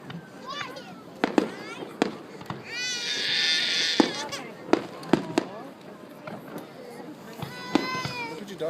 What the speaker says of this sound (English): you realize that it's American fireworks